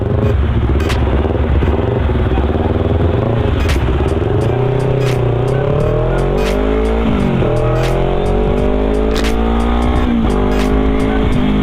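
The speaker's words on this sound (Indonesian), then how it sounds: "Sekalian ngetes motor ya, manasin ya." A loud Honda CBR motorcycle engine runs continuously close by while warming up, its pitch rising and falling as the throttle is revved repeatedly.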